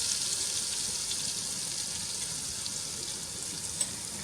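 Jaggery is stirred into melted butter in a pan, giving a steady, hissing sizzle, close and even throughout with one small click near the end, and no talking.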